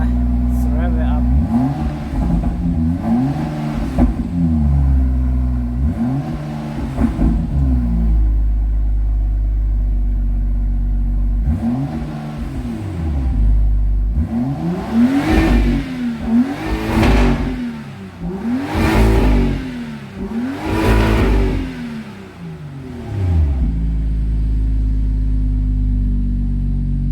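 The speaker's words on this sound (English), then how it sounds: "Let's rev it up." A 2018 BMW M2 F87 engine is revved repeatedly in short, swelling bursts, loud and close, with pauses between each rise and fall while a person talks over it.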